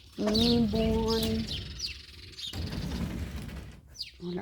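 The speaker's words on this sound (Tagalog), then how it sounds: "Ibon." Birds chirp faintly outdoors amid steady background noise, with a brief voice-like sound near the start.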